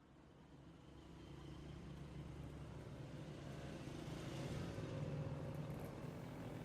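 Dense road traffic streams along a city boulevard in a steady wash of engines and tyres, distant and fairly faint, swelling slightly toward the end with no voices.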